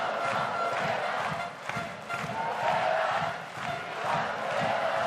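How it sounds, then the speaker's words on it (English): Dense crowd noise at a men's volleyball Olympic qualifier match between Brazil and Bulgaria, with hooters droning on without pause beneath a steady roar of cheering and chanting that holds loud throughout. "Those hooters going incessantly in the background."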